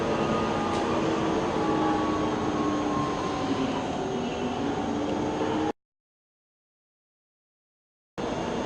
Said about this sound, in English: Here comes a RailJet train.